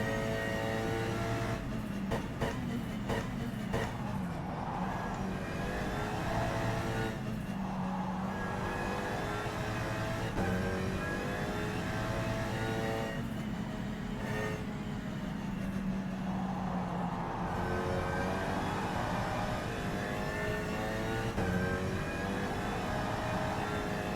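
An Alpine GT4 race car engine drones continuously on the Indianapolis Motor Speedway circuit in rFactor 2, its pitch rising and falling repeatedly through gear changes over a long steady stretch.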